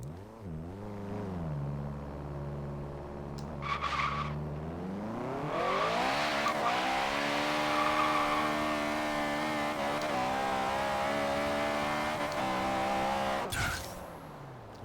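A front-wheel-drive Honda Civic accelerates hard in Forza Horizon 3, its engine winding up through first gear, then dropping in pitch at the shift and spinning its wheels through second, with a steady close engine drone and tire squeal.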